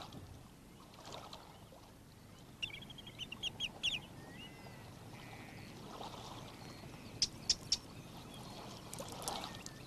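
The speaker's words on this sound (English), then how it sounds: "a resident family of wrens suddenly become alarmed" Wrens giving alarm calls on a Shetland shore: short bursts of sharp, rapid ticking chatter in several clusters, fairly faint over a continuous wash of wind and water.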